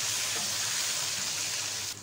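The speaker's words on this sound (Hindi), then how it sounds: "अब हम इसके अंदर डालेंगे टमाटर, ये भी साथ में फ्राई करेंगे।" Tomatoes frying in a pan for veg pulao give a steady, close sizzle and hiss that runs without a break, with a faint stirring scrape low down and a slight drop in level at the very end.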